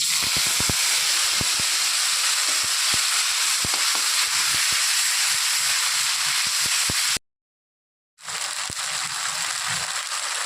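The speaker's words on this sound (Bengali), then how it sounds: "তেল দিয়ে দিয়েছি দিয়ে দিচ্ছি তেজপাতা সাদা জিরে বেটে রাখা মশলাটা দিয়ে দিচ্ছি" Bay leaf, white cumin and ground spice paste sizzle in hot oil for dal bora kofta, a steady close frying hiss with small crackles, briefly cutting out near the end before resuming.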